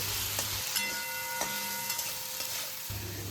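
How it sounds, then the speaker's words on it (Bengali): Potato pieces fry in hot oil with turmeric and salt for a vegetarian mushroom curry, giving a close, steady sizzle with stirring scrapes and a faint tonal hum underneath, no talking. "লবণ আর হলুদ দিয়ে আলুগুলো খুব ভালোভাবে আমরা ভেজে নেব।"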